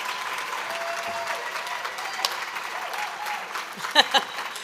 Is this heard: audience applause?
yes